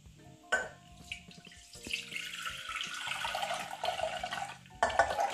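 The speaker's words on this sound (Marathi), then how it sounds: "छोले याप्रमाणे सगळे कुकरमध्ये भिजवलेल्या पाण्यासहितच टाकायचे आहेत" Soaked chickpeas are poured together with their soaking water into a pressure cooker, giving a close, splashing gush of water with a few knocks and clatters at the start and end.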